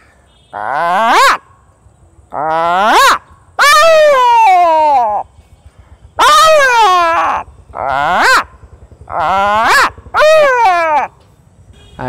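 A man in Jhalokati, Bangladesh, vocally imitates a crow calling, producing seven loud, harsh, close-up caws in an uneven series, each lasting roughly half a second to a second, with brief quiet gaps between them.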